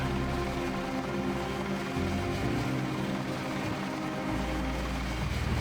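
A helicopter in the Deus Ex video game gives off a steady, loud mechanical drone with a low rotor hum that shifts pitch slightly, continuous throughout with no talking.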